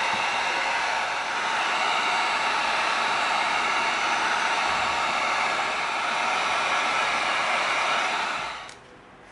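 Heat gun heat-sealing sanded EVA foam, a steady, loud blowing hiss held for about eight seconds before it cuts off.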